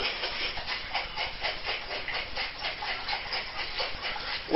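A bottle of sulfite rinse solution is shaken while racking five litres of homemade mead, making a fast, even run of close, hissing sloshes that repeat without a break and with no talking.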